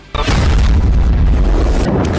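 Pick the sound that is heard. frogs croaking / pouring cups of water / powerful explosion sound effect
powerful explosion sound effect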